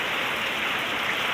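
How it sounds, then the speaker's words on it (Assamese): Rain falling steadily after a hot spell, a dense even hiss of drops close by with no voices. "বতৰ এতিয়া বৰষুণ দিয়ে আছে"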